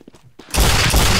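A loud, close blast of the original shotgun in Team Fortress 2, opening with a sharp crack that runs into a dense burst of gunfire, after a few soft clicks.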